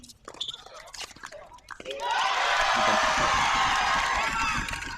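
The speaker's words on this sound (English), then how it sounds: "You can hear the crowd in the background." A tennis crowd erupts into loud cheering and applause at a college tennis open, rising sharply after a couple of seconds of quieter court sounds and a voice, then holding as a broad, sustained roar.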